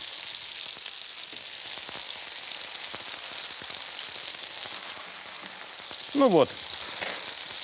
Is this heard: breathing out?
no